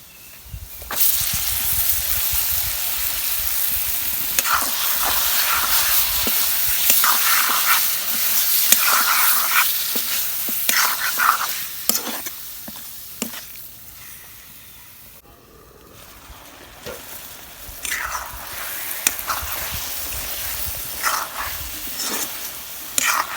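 Chicken pieces sautéing in hot oil with onion in a pan for khichuri, a steady loud sizzle and hiss with occasional stirring scrapes, dipping briefly quieter midway before the frying noise swells again.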